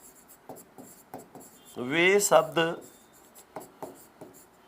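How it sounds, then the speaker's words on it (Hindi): Chalk or marker scratching across a board during a Hindi grammar lesson, a few short strokes before and after a burst of the teacher's speech. "तो देखो मैं लिख रहा हूं"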